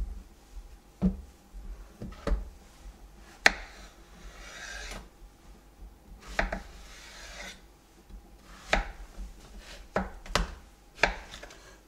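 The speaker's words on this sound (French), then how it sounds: "Pour la première courgette, on va la couper dans le sens de la longueur une première fois." A knife cuts a courgette lengthwise on a wooden board, giving sharp thuds spaced a second or so apart with slicing rasps between them, close and clear with no voices.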